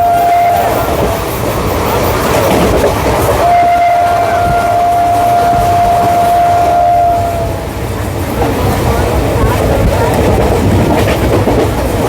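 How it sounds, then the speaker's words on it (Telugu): A Visakhapatnam–Palasa passenger train roars past loud and near, a continuous rumbling clatter of wheels on rails with a long sustained horn blast early on. "విశాఖపట్నం పలాస ప్యాసింజర్."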